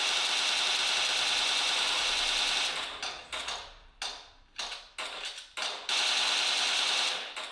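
Rapid automatic gunfire in a mobile shooter game played on a Samsung Galaxy S21 Ultra, a loud sustained burst breaking into short choppy volleys before resuming, no talking.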